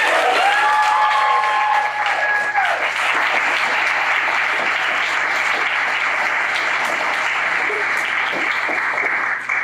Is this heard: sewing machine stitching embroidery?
no